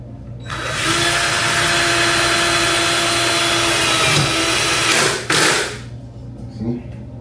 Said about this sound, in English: Then I got a drill.